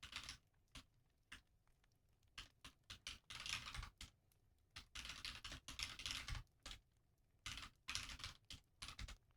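Rapid bursts of keystrokes on a computer keyboard, clacking in irregular clusters with short pauses between runs, close and fairly quiet with no talking.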